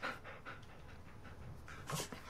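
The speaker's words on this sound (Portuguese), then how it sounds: "Já viu cachorro grande assim?" A large trained dog panting in quick, rhythmic breaths, close and fairly quiet, with no speech.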